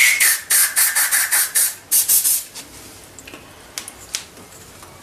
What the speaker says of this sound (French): je vais appliquer une bombe spéciale contact